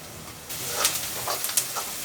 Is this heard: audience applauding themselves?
no